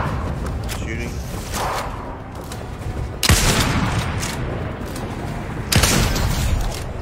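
Fortnite gunfire rings out as two loud, broadband blasts, one a few seconds in and another near the end, over steady game ambience while a person talks.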